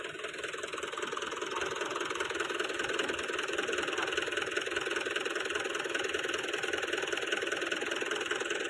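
A Mahindra 575 tractor engine runs at a steady, rough, throbbing idle during heavy loading on a farm. The drone is continuous and even, with no talk over it.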